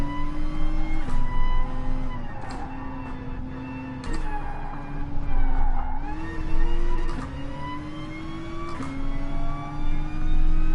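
Several Nissan GT-R Gr.3 race cars at Willow Springs in GT Sport, engines droning and revving continuously with rising and falling pitch through gear changes, loud and close throughout.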